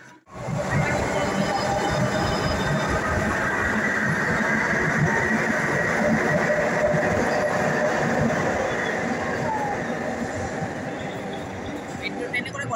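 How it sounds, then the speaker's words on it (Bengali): Kolkata metro train at Tollygunge station: a steady, loud rumble of rolling rail cars fills the whole stretch, with a faint wheel squeal partway through and voices murmuring in the station background. "তো টালিগঞ্জে চলে এসেছি, এখান থেকে মেট্রো যাব।"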